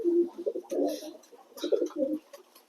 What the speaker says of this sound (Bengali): চলুন তো পায়রাগুলোকে উড়াই